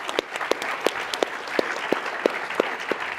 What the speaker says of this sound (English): one more round of applause for Vise AI